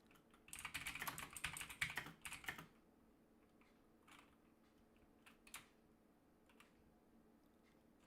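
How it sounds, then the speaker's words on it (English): Quiet computer keyboard typing: a quick burst of rapid key clicks for about two seconds, then a few scattered isolated taps in a still room. "Sorry that I'm typing so much."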